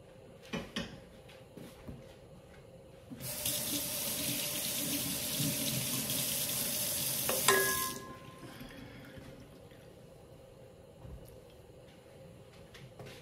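Tap water runs hard into a kitchen sink for about five seconds to wash boiled meat for Filipino menudo, loud and steady, then shuts off. Light clatter comes before and after it.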